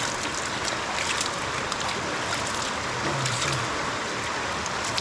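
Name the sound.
loud river flowing in Manchester, Jamaica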